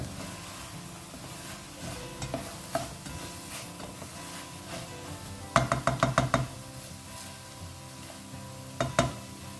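Softened tomatoes are stirred in a pan over a faint sizzle, with a spoon scraping and a quick cluster of knocks against the pan midway and again near the end.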